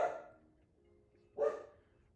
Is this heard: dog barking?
yes